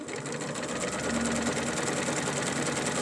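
A sewing machine runs steadily, stitching down a turned-in hem on woven fabric, a continuous fast mechanical whir and clatter heard close up with no pauses and no voices.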